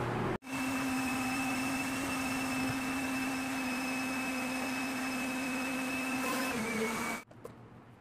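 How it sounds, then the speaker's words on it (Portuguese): A household vacuum cleaner passes over the floor to pick up surface dust, making a steady whining drone that switches on abruptly, holds evenly for about seven seconds at moderate volume, then cuts off. "Eu só peguei hoje o aspirador e passei assim pra tirar o pó superficial."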